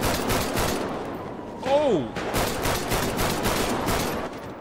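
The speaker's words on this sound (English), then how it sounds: "Wait, hold on, they had a shootout?" In the video game GTA, a shootout produces rapid bursts of gunfire in dense, repeated volleys, and a brief voiced exclamation cuts through partway.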